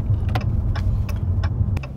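A Dodge Challenger with a V6 engine idles and begins to pull away, its low mid-pitched engine hum steady underneath a series of short clicking ticks.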